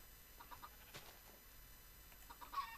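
Faint clucking from chickens in a video game, scattered soft calls over a quiet background hum, with no voices.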